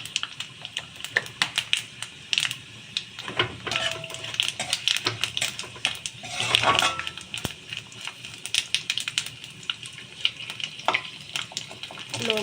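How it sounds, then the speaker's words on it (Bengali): Dried red chillies, bay leaves and panch phoron frying in oil in a pan for a Bengali olive chutney, a steady crackling sizzle with sharp pops and spatters and stirring scrapes throughout, close and alone without talk. "দিয়ে দেব শুকনো লঙ্কা ও তেজপাতা, আর দিয়ে দেব পাঁচফোড়ন। খুব ভালো করে একটু ভেজে নেব।"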